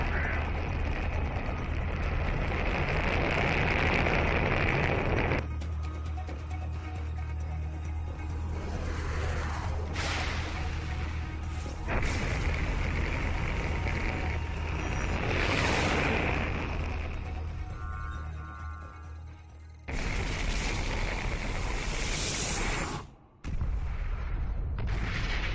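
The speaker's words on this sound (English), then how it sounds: "But there we go, missile launch." Missile launch and heavy explosions in C&C 3: Tiberium Wars, set at the Goddard Space Center, roar as a sustained loud rumble with booming blasts and a sudden drop near the end, under faint game sounds.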